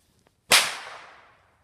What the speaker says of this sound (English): So that is the little firecracker.